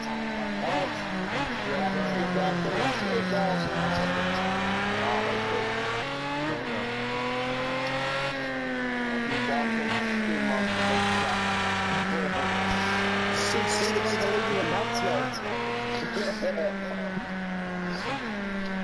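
Nissan Fairlady in a racing video game on a timed lap, its engine revving up and down through gear changes in a continuous loud whine, with voices talking over it.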